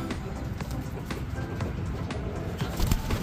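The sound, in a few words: fantail pigeons cooing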